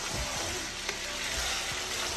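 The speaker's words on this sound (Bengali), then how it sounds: "আর কোনো রকম লবণ মশলা ছাড়াই এই চিকেনটাকে একটু ভেজে নিতে হবে হাই ফ্লেমে" Chicken pieces frying over a high flame in a pan, unseasoned with no salt or spices, give a steady close sizzle throughout with a few soft low knocks of pieces shifting.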